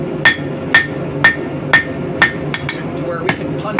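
Hammer blows taper a scrap of rebar during forging of a medieval war hammer, about seven sharp metallic strikes at a steady rhythm, loud and close, with some lighter taps between.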